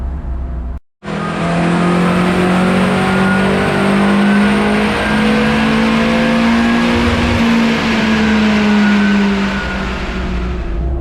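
Renault 5 GT Turbo engine fitted in a van, running on a dyno with a big intercooler. It roars loud and close and holds a steady high rev for about ten seconds after a brief cut.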